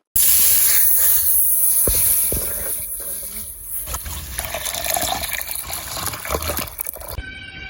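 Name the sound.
milk poured into a wok to heat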